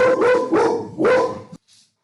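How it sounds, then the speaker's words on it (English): A dog barks three times in quick succession at the wind, loud and close, then stops with a brief faint noise after. "That was Hanky's barking at the wind today."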